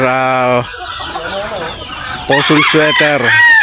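A gamefowl rooster of sweater or kelso breed crows loudly and close by, one full crow at the start and a second, choppier one near the end, with murmured background noise in between.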